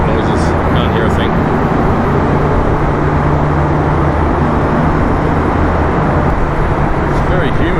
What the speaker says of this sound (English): All the truck noises, can't hear a thing.